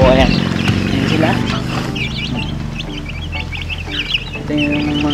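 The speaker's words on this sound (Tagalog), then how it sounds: "nilabas ko lahat yung mga alaga kong sisi para maarawan" Pet chicks let out into the sun cheep and cluck in quick, high, overlapping peeps, fairly close, while a person talks over them.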